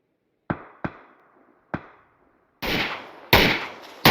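Sharp gunshots crack out in a PUBG esports match, first three spaced single shots with short decays, then heavier louder bursts of fire close together, with no talk over them.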